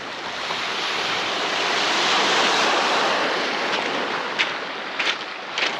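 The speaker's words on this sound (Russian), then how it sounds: "и смотреть на море, слушать шум прибоя" Steady Black Sea surf washing over a beach at Ordzhonikidze, Crimea, a broad constant rush with a few small splashes near the end, with no voices.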